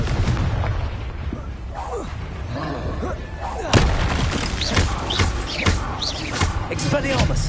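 A Confringo blasting spell goes off during a Hogwarts combat sequence, with a sharp booming burst near the middle followed by crackling pops and scattered impacts over continuous rumbling battle noise.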